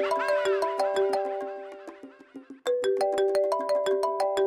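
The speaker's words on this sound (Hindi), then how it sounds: "लड्डू का फोन बजा।" A melodic phone ringtone plays loudly, a repeating electronic tune that fades, briefly drops out, then starts again at full volume.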